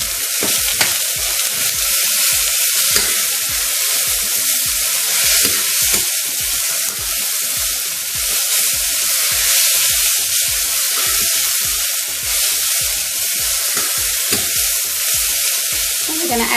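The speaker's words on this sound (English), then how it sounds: "now we will add some tomatoes." Loud steady sizzling from tomatoes added to a hot pan with carrots for oat upma, with the rhythmic scraping clicks of a utensil stirring throughout, close up and without talk.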